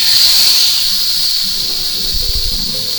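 Ribeye steak searing in hot peanut oil in a pan: a strong, steady sizzling hiss fills the whole stretch, loudest at the start and holding near and constant with soft low bumps underneath.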